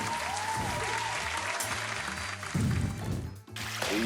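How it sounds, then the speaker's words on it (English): Applause and cheering from a live family game-show audience, a steady wash of clapping that swells louder near the end, with music playing underneath. "Round of applause for More Mind."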